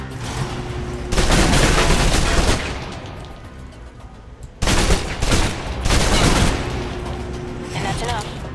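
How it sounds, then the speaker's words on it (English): Submachine gun fire from the Alpha Protocol video game rattles in loud, rapid bursts, two long volleys and a shorter one, with quieter stretches between them. "Now for your submachine guns."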